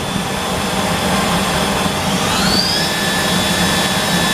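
A Kiwa KH-4500 horizontal machining center, a 2021 model with Lang fixturing, spins its spindle at 5,000 RPM, giving a steady broadband whir with a rising high whine partway through, close and continuous with no talk.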